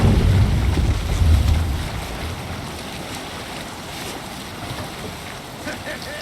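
A longship under sail at sea in the video game Assassin's Creed Valhalla: a steady rush of wind and washing water, fuller and louder at first, then settling into a softer continuous wash.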